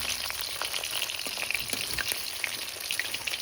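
Fish frying in oil in a pan at home, a dense crackling sizzle with scattered sharp pops, steady and close throughout with no talking.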